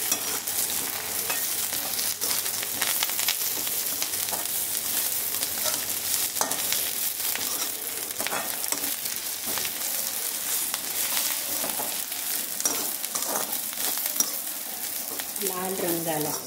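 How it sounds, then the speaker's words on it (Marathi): Garlic cloves, ginger and masala roasting in a hot pan for sev bhaji crackle with a continuous sizzle, broken up by scraping stirs and clinks of a spoon throughout. "8 ते 10 पाकळ्या घेतलेल्या आहेत लसणाच्या, अद्रक, हा सगळा मसाला एकदा परत आपण भाजून घेऊ."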